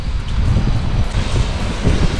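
Strong wind buffets the microphone outdoors at Riga airport, a loud, steady low rumble with gusty fluctuations and no speech.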